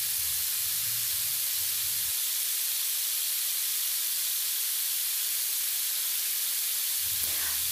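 Garlic and onion sautéing in oil for an Ilocano beef stir-fry, a steady, close sizzling hiss that carries on unbroken, with a few low knocks at the start and end.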